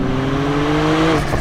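A turbocharged Porsche 911 R engine accelerates hard out of a tight turn, a close, loud, steadily rising drone with tonal whine climbing toward the end.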